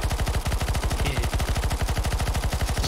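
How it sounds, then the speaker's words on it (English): Relentless automatic gunfire rattles nonstop in CS:GO Zombie Escape, a rapid even rhythm of loud, close shots aimed at a couch on a train map, with no talking. "Stop shooting the couch!"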